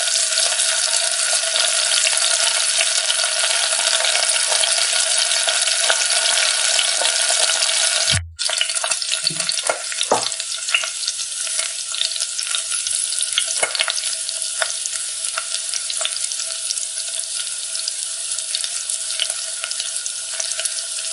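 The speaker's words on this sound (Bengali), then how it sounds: "মাছটা অল্প কড়া করে ভাজতে হবে" Pabda fish sizzling loudly in hot oil in a pan, a steady crackling fry that runs throughout, with a brief clatter and scrape of turning partway through and no talk.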